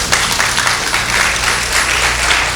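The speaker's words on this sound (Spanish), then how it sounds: "Mejor darle una alabanza de palmas a Dios." A Spanish-speaking church congregation gives loud, dense applause of praise during a sermon, the clapping continuous and close throughout.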